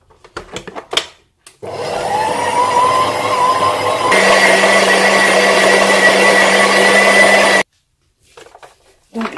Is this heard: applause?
no